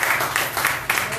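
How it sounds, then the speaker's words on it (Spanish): A church congregation claps in quick, uneven bursts during a prophetic worship service, loud and close, with voices under the applause. "Un aplauso al Señor"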